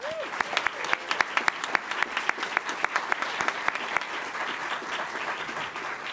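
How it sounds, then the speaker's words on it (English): An audience claps for the Airman of the Month at a pilot training graduation ceremony, a moderate round of distinct, fairly sparse hand claps heard from nearby that thins out toward the end. "Can we give her a round of applause?"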